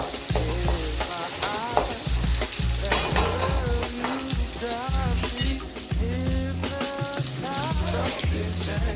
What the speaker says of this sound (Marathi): मी हा कापलेला कांदा त्याच्यामध्ये टाकत आहे. कांदा आता थोडासा लालसर होऊन देणार आहे.